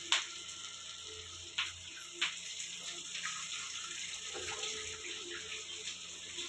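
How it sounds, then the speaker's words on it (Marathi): Tap water running steadily into a sink while hands are washed in a home kitchen during cooking, a faint continuous splash with a few brief clicks and knocks. "मला हात भरलाय, हात धुवून घेते."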